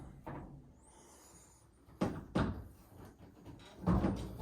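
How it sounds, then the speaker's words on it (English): A Whirlpool WED5000DW2 electric dryer's door is pushed back onto the front panel, giving a few close, hollow clunks and knocks spaced apart, with no talking. "So now we're just gonna pop this door back on the front and give it a test."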